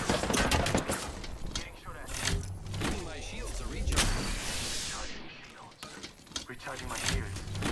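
Close, loud gunfire crackles in Apex Legends, with rapid shots and bursts scattered across the stretch amid game effects and a sweeping whoosh.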